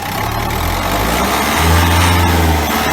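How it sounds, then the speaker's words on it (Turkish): A car engine is revved in a workshop while its MAF sensor is measured, with a loud close idle rumble that climbs into a throttle rev partway through before easing back. "Gaz ver Mete."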